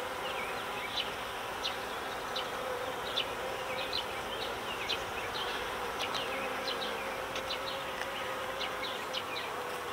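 Honeybees buzz steadily around a hive frame held up from a colony with a failing queen, a dense close hum with individual bees zipping past now and then, outdoors with no talking.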